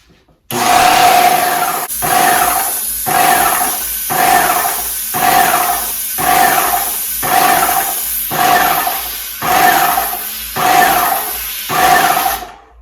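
Loud hissing spray from an airless paint sprayer spraying paint, in a series of roughly one-second bursts with short gaps, steady and close, repeating about ten times.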